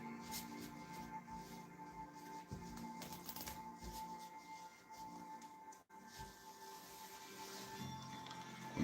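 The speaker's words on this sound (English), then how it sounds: "I'm going to show you a couple of different ways of shuffling the cards." Playing cards are shuffled up close in a quiet ASMR-style setting, a steady run of soft riffling and papery rustling with brief pauses and no voice.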